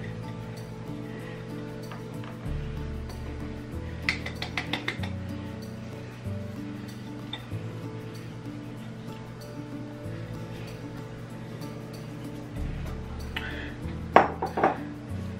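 A spoon works pumpkin bread batter in a bowl, giving steady scraping with occasional clinks against the bowl over faint background music.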